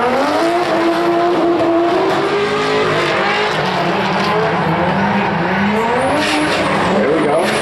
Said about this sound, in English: This is Mr. Cameron Moore is in the green car. Mr. Brandon Schmidt behind him in the orange car.